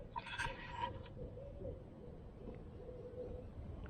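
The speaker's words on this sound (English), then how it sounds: "And the owls are hooting." Owls hooting outdoors at a campsite, a few soft low hoots in the distance over quiet ambient background, with faint chirpy calls at the start.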